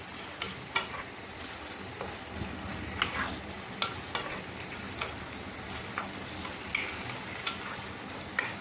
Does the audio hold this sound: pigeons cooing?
no